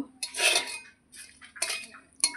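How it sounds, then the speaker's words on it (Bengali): Garlic and chili scraped with a spoon into a bronze bowl, giving close metallic clinks and scrapes in three short bursts, with no voice. "আমি এই কাঁসার বাটিটায় এই রসুন আর লঙ্কাটা তুলে নেব"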